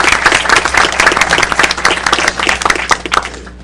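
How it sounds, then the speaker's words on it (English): Applause from an audience at a committee meeting, loud and close, with distinct individual claps forming a lively, uneven burst throughout. "all of us should give a real round of applause"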